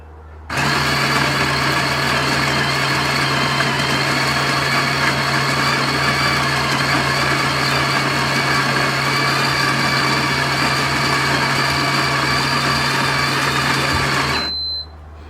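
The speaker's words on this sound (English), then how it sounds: "So we're now up to 18 and I'm going to press start grind." A Ninja Luxe Cafe espresso machine's built-in grinder runs through coffee beans at grind setting 18. The motor gives a loud, steady whirring drone that starts abruptly, holds evenly for about fourteen seconds, then cuts off, with no talk over it.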